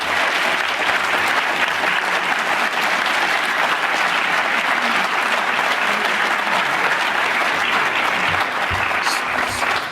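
Loud, sustained audience applause at a high school Top 5% awards ceremony, a thick wash of many hands clapping evenly for the full length without letting up.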